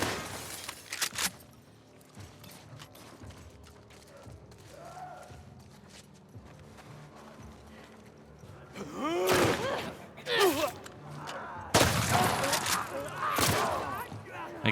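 Shotgun blasts in The Last of Us Part II during a fight with infected: a few loud, sharp booms clustered near the end, after a quieter stretch with scattered noises and a voice speaking.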